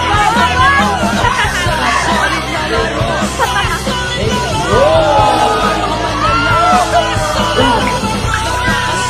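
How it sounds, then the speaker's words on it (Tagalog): Basketball fans at an outdoor community court in San Fermin Luma yelling, cheering and whooping in a loud, continuous crowd roar, with babble and shouts rising and falling throughout. "Malakas ang hiyawan."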